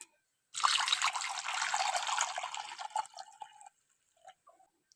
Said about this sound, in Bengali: ওর মধ্যে জলটা দিয়ে দিচ্ছি।